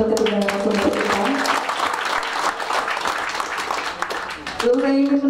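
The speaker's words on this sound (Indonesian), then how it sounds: "boleh saya minta tepuk tangannya untuk ketiga narasumber kita" An audience at the Gema K3L 2016 talk event applauds its three speakers in a dense, sustained burst of clapping, with a voice speaking just before it and again as it fades.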